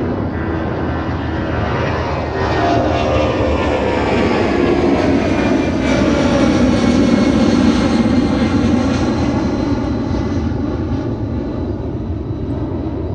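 A Delta jet airliner takes off from Fort Lauderdale airport, its engines giving a loud, sustained roar that swells and shifts in pitch as it passes, then slowly recedes, with no voices.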